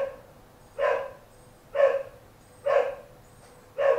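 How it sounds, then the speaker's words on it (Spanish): A dog barks four times at a steady, unhurried pace somewhere in the house, each bark moderately loud and slightly distant, with quiet room tone between them. "Y el perro que está ladrando, sería bueno que dejara de ladrar."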